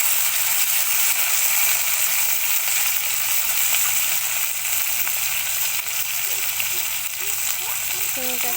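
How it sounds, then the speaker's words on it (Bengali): Beans fry in a pan with a steady, close sizzle throughout, and a few faint utensil clinks come near the end. "এখন আমি শিমটা ভালো করে লাল লাল করে ভেজে নেব।"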